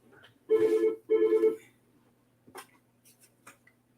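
Two loud electronic telephone rings, each about half a second long with a short gap between them, on a weather spotters' phone line during a storm, followed by faint clicks and handling noises.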